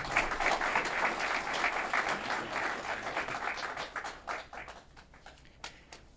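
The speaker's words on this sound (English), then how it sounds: "A round of applause." An audience at a road development project announcement claps in a dense burst that fades over a few seconds, leaving scattered individual claps at the end.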